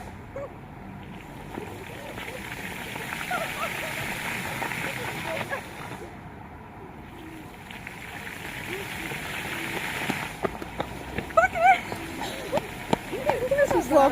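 Water from a city fountain in Liepāja sprays and splashes steadily in a broad wash close by, with louder splatters near the end as people talk over it.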